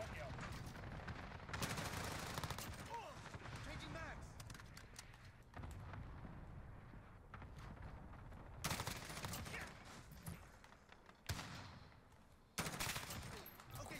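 Rapid bursts of M4A1 rifle fire in Call of Duty: Modern Warfare, loud repeated volleys separated by short pauses, with a voice talking between bursts.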